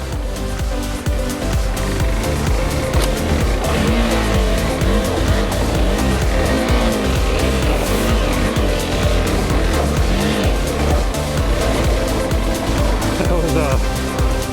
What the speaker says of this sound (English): A lot of throttle, probably more than I should have used, but it did the job.